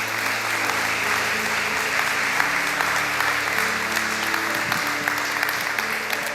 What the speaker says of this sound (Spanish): Si vas a aplaudirle, apláudele fuerte a Él.